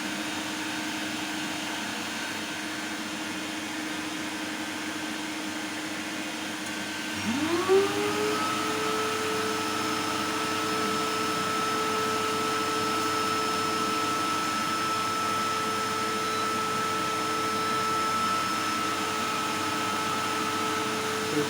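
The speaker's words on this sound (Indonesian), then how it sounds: "Namun ini jika beban mencapai 5000-an watt, kipas berputar maksimal ya." A cooling fan inside an 8000 W low-frequency inverter panel with a transformer, running under heavy electrical load as a steady loud whir that speeds up partway through and then holds at a higher constant pitch, with no talk.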